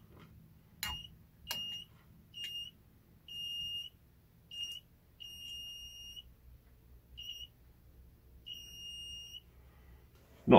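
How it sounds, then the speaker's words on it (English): A DIY metal detector kit gives a series of high electronic beeps, some short and some held for about a second, repeating with gaps in a quiet shed, close and moderately loud, ending with a brief knock. "you'll get constant beeping with the light"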